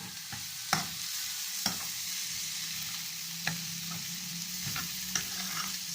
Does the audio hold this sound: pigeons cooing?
no